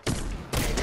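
Two loud, close gunshot bursts in the video game Fortnite, each sharp with a brief tail, following one another in under a second.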